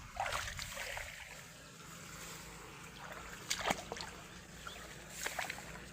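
Water moving across a flooded field of pigeon pea crops, a low, quiet, continuous wash and trickle outdoors, broken by a few brief splashy bursts.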